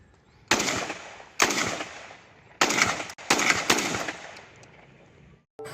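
A toy gun fires several loud, sharp bursts in quick succession, each a rattling machine-gun-style sound effect with a short decay, separated by brief pauses.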